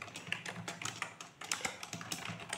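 Quick, light keystrokes on a computer keyboard rattle close and faint in an uneven stream of clicks, with no voice over them.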